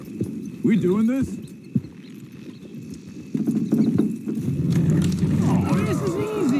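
Hooves clop in a steady rhythm as horses pull in Red Dead Redemption 2, with a horse whinnying near the start and again near the end, all fairly close.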